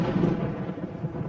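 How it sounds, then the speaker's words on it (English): Cartoon thunder from a thunderstorm rolls as a low, continuous rumble, broad and fairly loud, with no voices. "There is going to be a thunderstorm."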